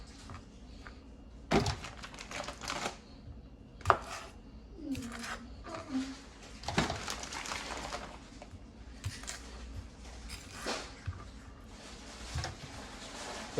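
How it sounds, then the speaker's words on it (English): Sausages are cut up with a knife, giving sharp irregular thunks of the blade striking a board, scattered across the stretch with quieter scraping between, near and moderately loud. "Gonna cut up these sausages."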